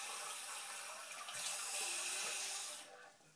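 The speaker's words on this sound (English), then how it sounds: "And then you're going to add some cold water." Cold tap water runs into a measuring jug in a steady hissing stream, close by, before tapering off as the flow stops, with no talk.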